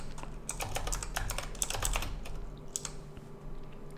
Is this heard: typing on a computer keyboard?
yes